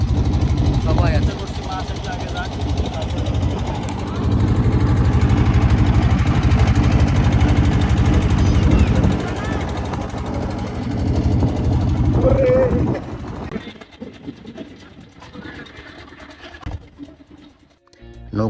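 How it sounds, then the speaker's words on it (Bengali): A loud boat engine drones on a crossing of the Padma river in Rajshahi with motorbikes loaded aboard, a heavy, continuous mid-pitched rumble up close that eases lower near the end, with people talking over it. "নৌকার ইঞ্জিনের প্রচুর শব্দ"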